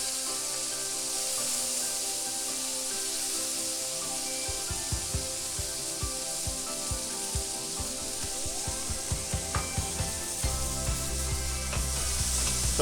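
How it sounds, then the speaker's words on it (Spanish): Artichoke sizzles with browning meats in a wide paella pan for a traditional Valencian paella, a steady close frying hiss with scraping and stirring clicks from a spatula in the middle stretch. "Sofreímos un poco la alcachofa"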